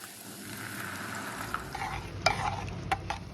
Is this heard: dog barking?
no